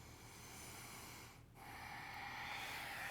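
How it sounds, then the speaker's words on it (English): Deep breaths during a yoga workout: one long, airy inhale, a brief pause, then a stronger, louder exhale, close to the microphone with no talking. "Two more inhales and exhales."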